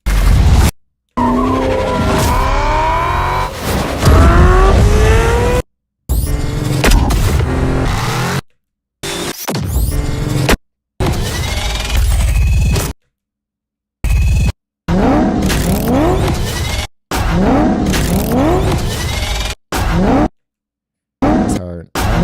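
Car sound effects of tires squealing and skidding with revving engines come in choppy bursts separated by sudden silences, loud and close, with a voice talking over parts of them.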